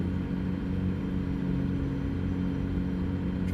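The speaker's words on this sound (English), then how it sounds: "Truck sounds very nice." A truck engine in American Truck Simulator, a steady deep droning rumble with a strong low hum, loud and even throughout, cruising without clear revving.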